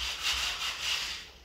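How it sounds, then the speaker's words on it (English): Light hand sanding on wood during farmhouse renovation work in Bulgaria, a soft rhythmic back-and-forth rasp in about three close strokes. "Just giving them a little light sanding to make them look better."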